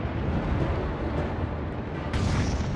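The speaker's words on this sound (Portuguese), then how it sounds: "Este filme alemão mostra os enormes canhões de 381 milímetros do Bismarck disparando contra o Hood" Heavy naval gunfire from the German battleship Bismarck's 381 mm guns engaging HMS Hood at about 15 km, a dense, continuous low rumble of booms from archival footage, loud and sustained without speech.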